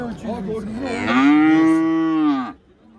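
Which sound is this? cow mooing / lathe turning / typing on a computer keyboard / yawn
cow mooing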